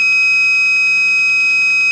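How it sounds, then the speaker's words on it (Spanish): A methane gas alarm's active 5 V buzzer sounds a loud, continuous high-pitched electronic tone with a fast pulsing flutter, close and unbroken. "llegó a 300 y se disparó la alarma"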